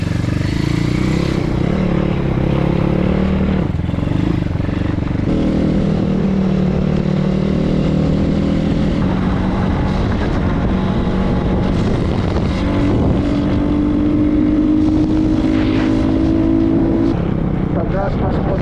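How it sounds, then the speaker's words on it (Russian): A pit bike engine runs continuously while it is ridden along a forest trail, loud and close, with rising and falling revs and some rattling from the bike. "Так, ну мопед завелся, уже хорошо."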